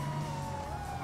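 A police car siren wails steadily during a chase in the video game GTA V, a short, moderately loud electronic tone over a low engine hum.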